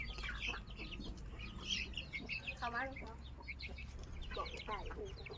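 Chickens cluck and peck at feed in a Thai farmyard, with a run of close clucks and chirps over steady outdoor background and people talking nearby.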